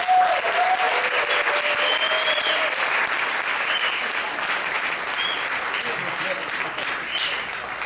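An audience at a jazz orchestra concert in the UCO Jazz Lab claps loudly and continuously, the applause holding steady, then slowly easing, with a few voices rising from the crowd.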